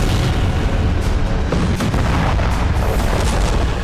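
Continuous heavy booming and rumbling from Israeli air strikes bombing southern Lebanon, dense and loud throughout with repeated blasts blending into a roaring wall of noise, no voices.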